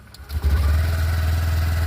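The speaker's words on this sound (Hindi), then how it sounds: "पावर डाल दिया, सेल्फ स्टार्ट कर लिया" A scooter's engine started with the electric self-start: a brief cranking whirr that catches into a steady low idle, close and continuous.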